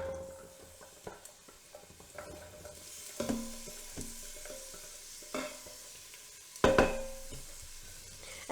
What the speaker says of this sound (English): now I'm going to add 1 medium onion, which I've chopped